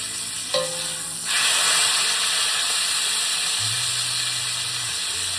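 A chuck roast sears in a hot pot with a loud, steady sizzle and hiss that swells after a brief clunk, continuing strongly throughout.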